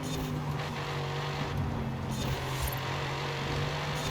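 Mercedes AMG GT3 race car engine in Forza Horizon 5, a loud, steady, droning roar at high revs with slight pitch shifts and brief tire noise, and no talk over it.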